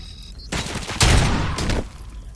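Gunfire from the RoboCop film, a loud burst of several close shots lasting about a second and a half, hard and dense, with no talking over it.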